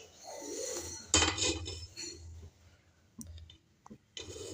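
A pressure cooker is set down in a home kitchen while a vegetable gravy is prepared. It gives close metallic clatters and clinks in a few sharp bursts, with quiet gaps between and no talk.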